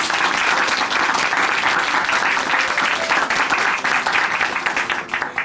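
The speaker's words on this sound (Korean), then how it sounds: "귀한 간증 들려주신 자매님께 큰 박수 보내드릴게요." Sustained audience applause fills a church hall at Chuncheon Hanmaeum Church after a testimony program, steady dense clapping throughout with no talk over it.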